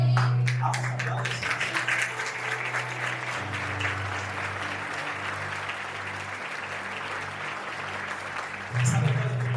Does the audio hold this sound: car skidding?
no